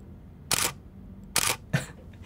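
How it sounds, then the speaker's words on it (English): Canon 6D DSLR shutter firing three separate times, each a crisp mechanical click-clack burst with short pauses between, close and clear in a quiet room. "whenever you snap a photo, you get that bouncy shutter feel."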